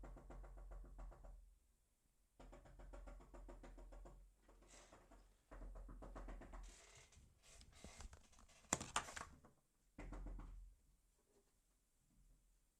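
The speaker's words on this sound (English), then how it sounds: "my girlfriend is rapidly spamming at the window. Like, she's banging the window" Rapid knocking and banging on a window by a person, heard as bursts of quick thumps with pauses between, fairly faint and muffled as if from outside a ground-floor room.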